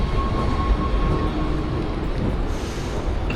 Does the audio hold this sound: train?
yes